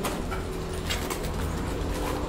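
A pigeon or dove coos close by against steady outdoor noise, and a soft flutter of wings passes near as a bird flies right up toward the listener's face.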